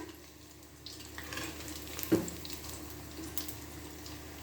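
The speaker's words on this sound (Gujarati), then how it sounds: "જારા વડે હલાવવાના અને તેને પાકવા દેવાના." Rice bhajiya fry quietly in hot oil with a soft, continuous sizzle. A slotted spoon stirs them with faint scrapes, and there is one brief clink near the middle.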